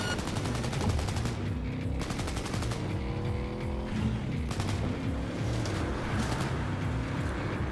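Bursts of rapid automatic gunfire in the video game Cyberpunk 2077, repeated volleys with short gaps, mixed with vehicle engine and tire noise during a chase.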